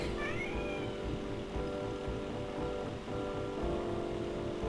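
A cat meows indoors, a few rising, drawn-out cries standing out above a steady broadband background hum and low rumble.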